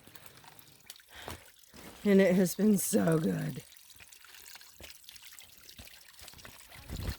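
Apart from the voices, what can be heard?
filling a water bottle from a trail water source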